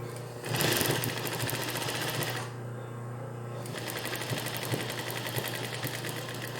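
A sewing machine stitching a shirt sleeve runs with a steady rapid mechanical whir and clatter, briefly slowing to a pause before resuming at an even pace, close and fairly loud.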